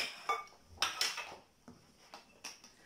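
A cooking pot being fetched and handled in a home kitchen, a few scattered metallic clanks and knocks of cookware with soft rattles between them, close and moderately loud, with no voices.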